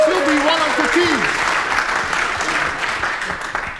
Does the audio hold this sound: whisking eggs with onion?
no